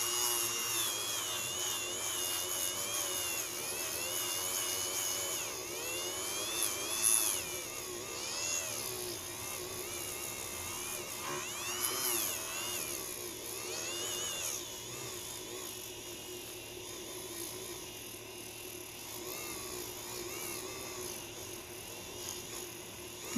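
A Dremel rotary tool polishes the face of dinosaur gembone with a steady, faint high whine that wavers in pitch as pressure shifts, over a low constant hum throughout.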